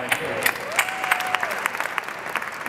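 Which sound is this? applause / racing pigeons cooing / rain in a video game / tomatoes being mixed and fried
applause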